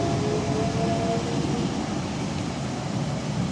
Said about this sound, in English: I'm going to film it for you. Special train.